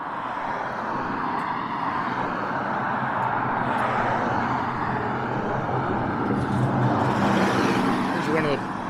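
A long-distance transit bus passes on a road in Mammoth Lakes, California, its engine a loud, broad rumble that swells toward the end, with outdoor ambience around it.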